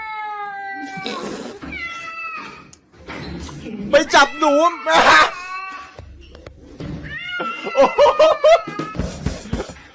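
A cat meows repeatedly in long, wavering, drawn-out wails, loud and close, while people talk and laugh over it.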